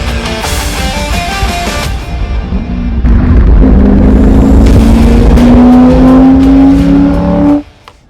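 A C5 Corvette Z06 driving, its engine loud and close, rising in a long, steady rev with a climbing pitch before cutting off abruptly near the end.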